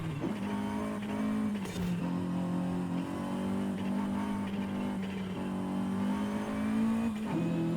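Racing car engine in Forza Horizon 5 holding a steady, loud revving drone that climbs and dips with gear changes, close and continuous with no talking.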